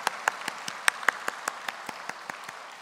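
Light, sparse applause from a church congregation at a thanksgiving service, with a few scattered claps spaced unevenly and fairly close.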